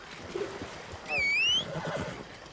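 A horse in Red Dead Redemption 2 lets out one loud, rising whinny midway, standing out above a quieter background with faint movement sounds.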